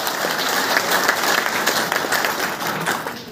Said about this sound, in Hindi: मैं उसके सम्मान में जोरदार ताली जाऊंगा।